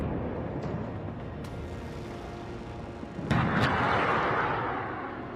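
A Nag MK2 anti-tank missile test-fired at the Pokhran field firing range in Jaisalmer, with a rumbling roar that builds to a sharp loud blast near the end and then trails off in a dull boom.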